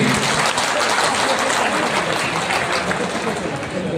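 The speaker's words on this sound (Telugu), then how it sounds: "గట్టిగా చప్పట్లతో ఒకసారి ఎంకరేజ్ చేయండి" An audience claps loudly and steadily to welcome a guest at a contractors' gathering, dense applause filling the whole stretch with a faint murmur of crowd beneath it.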